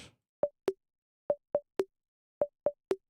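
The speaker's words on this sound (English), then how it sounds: "And then this one is bongos." A bongos drum groove in Ableton Live 12 taps out short, pitched hollow hits in quick groups of two and three, alternating a higher and lower tone, dry and clean with silence between.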